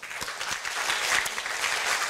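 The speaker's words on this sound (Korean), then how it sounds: "박수로 시작하시죠." An audience at a Korea University lecture on the digital revolution and entrepreneurship breaks into steady applause, dense clapping filling the whole span at even loudness, with no speech over it.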